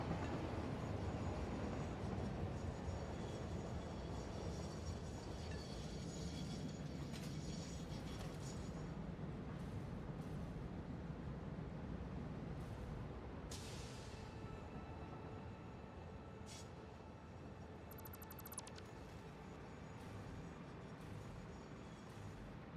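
A train moving through a factory-building video game, heard as a steady, loud mechanical rumble with faint rail clatter and occasional high clicks, continuous for the whole stretch with no voices.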